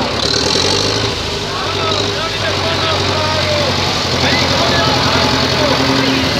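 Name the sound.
tractor engine in a May Day parade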